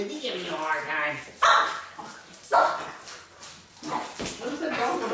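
A dog barks and whimpers in a garage during motorcycle repair work, with a couple of loud close barks between softer whining, as people talk nearby.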